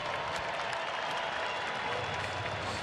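Baseball crowd at Globe Life Park during a Tigers–Rangers game, cheering and applauding steadily as a dense, continuous roar with no break.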